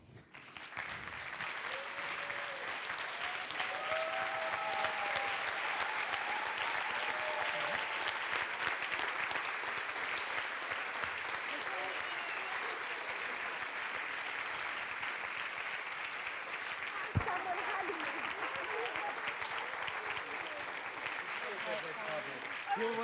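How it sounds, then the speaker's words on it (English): A large assembly in a plenary hall applauds for a long stretch, with dense, sustained clapping and some cheering voices mixed in, and a sharp thump partway through. "they also deserve quite a bit of applause"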